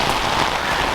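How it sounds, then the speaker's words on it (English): Heavy pouring rain outdoors on a warm, windy winter day, a loud steady wash of drops pattering on surfaces with no voices. "now we are in 70-degree weather, pouring rain, and tons of wind."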